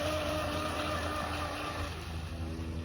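A Pro Boat Blackjack 24 RC boat's electric motor runs steadily and loudly for a few seconds, a continuous buzzing whine that eases slightly toward the end.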